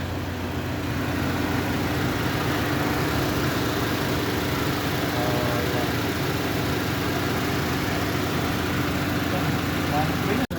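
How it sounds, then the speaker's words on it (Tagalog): A Mitsubishi Lancer's engine idles steadily and quietly with the air-conditioning compressor off, a constant low hum running unbroken throughout, with a voice talking over it. "Tahimik ng makina niya"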